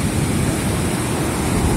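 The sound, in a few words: strong wind blowing at a sunny beach in Bali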